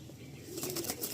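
A Madrasi pigeon released by hand beats its wings in a short burst of flapping, close and fairly quiet, lasting about a second with no talk over it.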